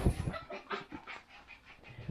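A small pinscher dog at a breeding kennel pants in quick, breathy rhythmic pulses mixed with soft whimpers, close to the microphone with no talking.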